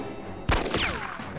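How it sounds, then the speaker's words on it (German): A single sharp gunshot in the video game Jagged Alliance 2 cracks out, followed by a brief ringing whine and fading echo over a low background hum. "Einen unmöglichen Schuss, aber wir haben es mal gewagt."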